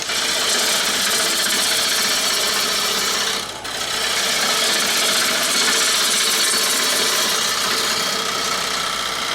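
A wood lathe spins steadily at speed while a bowl is turned, giving a loud, continuous broadband whir and rushing rub with one brief dip near the middle, heard close and alone.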